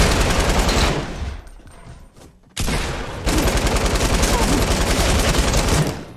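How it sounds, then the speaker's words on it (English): Gunfire in the video game Fortnite Battle Royale, loud sustained bursts of rapid automatic shots that drop out briefly and then resume in a dense continuous stream. "That'll be the brain gun."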